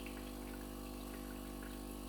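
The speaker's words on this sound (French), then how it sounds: "l'appareil va faire couler l'eau dans l'ensemble du circuit de la machine" DeLonghi EVO coffee machine running rinse water through its circuit during descaling, a steady low pump hum with a constant watery flow, faint and even throughout.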